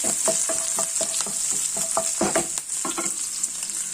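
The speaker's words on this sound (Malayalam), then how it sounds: "അപ്പം ഇതൊന്ന് വഴറ്റി" Soya chunks fry in coconut oil with a constant close sizzle, stirred in quick repeated scrapes and knocks of a spoon against the pan; no talking.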